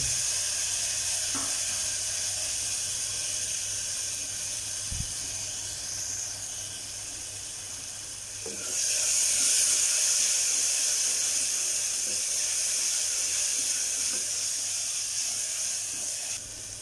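Onions sizzle steadily in hot oil, a loud continuous hiss that swells partway through as ginger garlic paste goes into the pan, close up.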